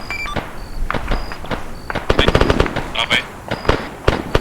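Rapid bursts of gunfire crack in quick succession in the video game Arma 3, with sharp shots and short automatic volleys mixed with electronic beeps and game sounds.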